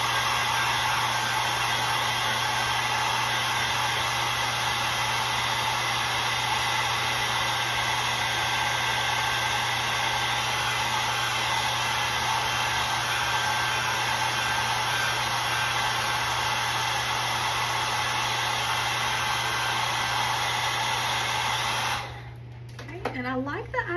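A hair dryer blows steadily and loudly on the painted face of a bumblebee shelf-sitter craft, a constant whirring hum that runs unbroken for most of the clip before cutting off near the end.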